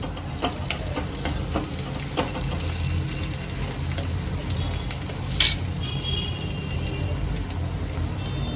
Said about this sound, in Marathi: आता ह्यात मी कोथिंबीर घालून घेते